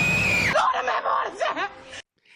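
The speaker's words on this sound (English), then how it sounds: "Willow screams" Willow from Buffy the Vampire Slayer lets out a loud, full-bellied scream that starts at a high pitch, wavers for about two seconds and then cuts off sharply.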